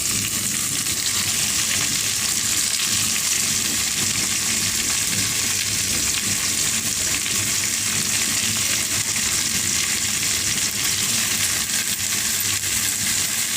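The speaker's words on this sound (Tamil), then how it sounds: "நான் 2 கட்டு கீரைக்கு தேவையான தக்காளி சேர்த்துருக்கேன். நல்லா வதங்கணும்." Tomatoes for a spinach curry sauté in a pan, producing a dense, even sizzle that holds steady and loud throughout with no talking.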